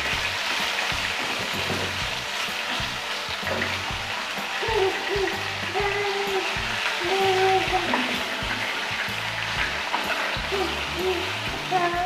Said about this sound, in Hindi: चिकन को हमने इसमें अच्छे से भून लेना है 2 मिनट के लिए, हल्का हल्का सा शैलो फ्राई करते हैं इसको हम।